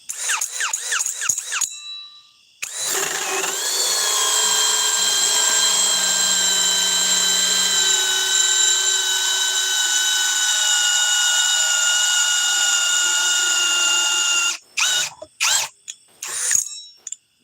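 Ryobi power tool running, a loud continuous motor whine with a slight pitch dip at startup that holds steady for about twelve seconds, preceded and followed by short bursts of mechanical noise.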